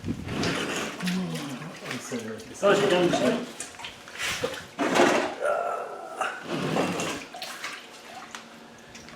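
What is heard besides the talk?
water leaking from a Land Rover Defender 300 Tdi engine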